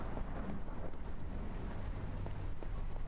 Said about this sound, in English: Rain fiercely patters against the window as if it never intended to stop falling.